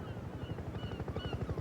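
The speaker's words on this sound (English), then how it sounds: "It was Harold the helicopter hovering above them." A helicopter hovers overhead as a sound effect in a children's audio story, its rotor thumping in a steady, rapid low pulse at moderate level.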